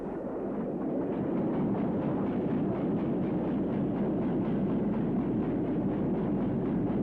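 A steam locomotive, number 7806, passes hauling a down train, giving a loud, continuous heavy rumble that stays close and steady throughout with no talk.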